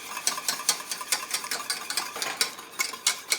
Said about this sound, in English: When the whisk makes trails in the custard, that's when you know you're thickening